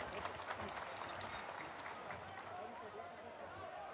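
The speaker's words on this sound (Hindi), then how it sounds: "सबको जोरदार ताली बजा दीजिए" An audience claps to welcome the chief minister at a live political event in Chhattisgarh, with steady, dense applause mixed with crowd noise running throughout.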